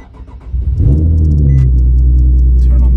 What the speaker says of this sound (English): I'm gonna turn on the car for a second.